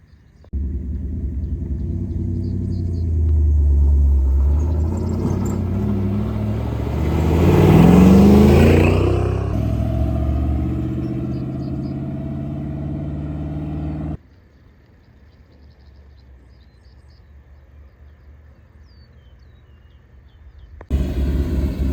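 An old 1965 Chevrolet C10 pickup truck being driven in Mexico, its engine rumbling loud and close as it revs up and climbs through the gears, then dropping to a quieter steady drone before swelling again at the end.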